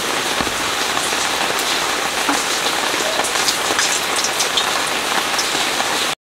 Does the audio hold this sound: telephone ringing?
no